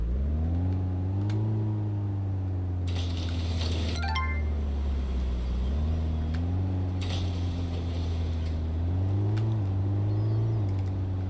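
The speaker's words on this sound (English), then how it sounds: "I think this truck is full, so let's drive it over to the other warehouse." Delivery truck driving in the video game Big Ambitions, a steady low engine drone with a few rising revs as it accelerates, plus brief clinking game sounds in the middle.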